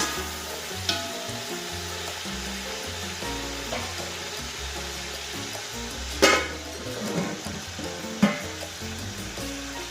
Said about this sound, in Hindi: दो टमाटर, इनको 2-3 मिनट फ्राई करेंगे।